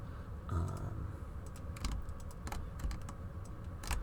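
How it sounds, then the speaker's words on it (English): Quiet keyboard typing, a steady patter of soft key clicks with occasional sharper taps, close and unaccompanied by voices. "that's why you can hear a lot of keyboard work"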